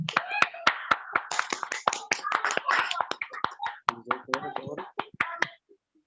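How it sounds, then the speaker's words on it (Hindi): At a church gathering, scattered sharp claps ring out unevenly, close and crisp, as an audience welcomes a speaker. A voice talks between and over them. "प्लीज आप सब तालियों में खुदावंद के बंदा को वेलकम करें"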